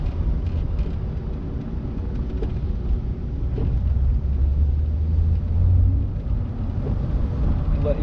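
A C6 Corvette's engine rumbles low and steady from inside the cabin while driving slowly around a parking lot during manual-shifting practice, with a brief rise in drone partway through; no talk is heard.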